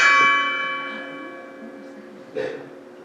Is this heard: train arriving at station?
no